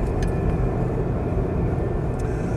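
A Mitsubishi Pajero 2.8 TDi long-wheelbase automatic cruising at about 50 mph on a slightly bendy road, a loud, steady low cabin rumble of engine and road noise with no break.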